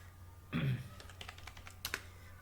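Computer keyboard keys tapped while working in MS Word, a short burst of quiet clicks followed by a run of light, evenly spaced keystrokes close by, with a low background hum and no talking.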